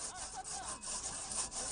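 Hand saw cutting back and forth through a wooden log at a log-cutting contest during a loggers' festival, a steady rasping rhythm of strokes, loud and close with no talk.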